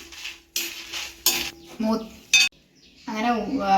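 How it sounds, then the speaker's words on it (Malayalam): A spoon scrapes and stirs dried chilies and coriander roasting in a pan in short bursts with soft sizzling between, the clatter close and uneven. "മുളകും മല്ലിയും കൂടെ വറുത്തെടുത്തിട്ടുണ്ട്"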